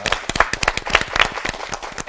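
A Bible-class audience breaks into brisk, close applause, a short burst of sharp, fast clapping from a modest group.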